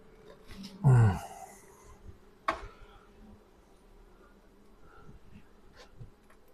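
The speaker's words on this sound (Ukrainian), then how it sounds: "багато молодої бджоли в лазі" Honeybees drone around close by, with a loud burst of buzzing near the start and scattered fainter passes afterward, many young bees near the hive entrance.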